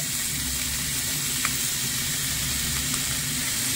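Chopped vegetables including beans, tomato, capsicum, cabbage, carrot and green chilli fry in a pan for a sago momo filling, giving a steady, even sizzle with faint clinks, close and without talk.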